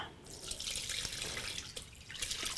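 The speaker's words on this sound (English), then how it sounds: "So I'm going to just pour this through the sieve" Liquid poured through a sieve lined with cotton muslin into a jug while making fire tonic, a steady splashing, trickling stream close by with small drips.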